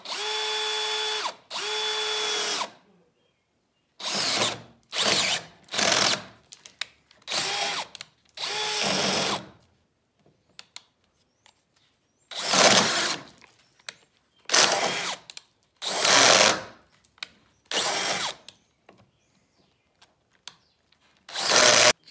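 DeWalt drill driver driving screws during a truck cap camper build, a series of short loud whirring bursts of varying length separated by silences, close up.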